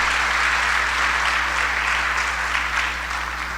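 Church congregation applauding during a Sunday sermon, a continuous close wash of clapping with a steady low hum underneath, easing slightly near the end.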